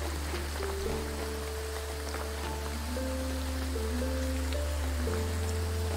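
Steady rain hisses across the whole scene in the video game Graveyard Keeper, a constant wash of falling drops beneath soft sustained musical tones.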